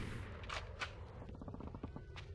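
Hip-fired gunshots in Conker's Bad Fur Day, a few sharp cracks followed by a quicker run of shots, fairly faint against a low background, with no talk.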